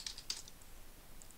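A Mercurial hg branch command is typed on a computer keyboard: a few quick, faint key clicks cluster near the start, then give way to quiet room hiss.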